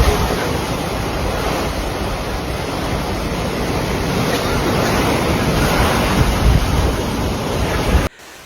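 High surf crashes along the Okinawa coast during Typhoon Bavi, a continuous loud roar of waves mixed with strong wind buffeting the microphone, ending abruptly.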